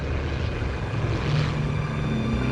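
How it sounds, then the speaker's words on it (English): A loud propeller airplane roars overhead in Metal Gear Solid 3: Snake Eater, a steady, dense engine drone that swells slightly midway, with no one talking. "giant, really loud airplane that blasts out your ears all of a sudden."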